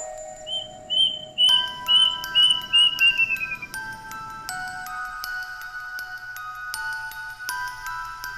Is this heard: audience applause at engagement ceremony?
no